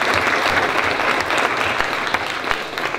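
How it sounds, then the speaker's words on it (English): An audience at a special-education adult services panel gives a short round of steady, moderately loud applause that lasts about three seconds. "Give them a nice round of applause."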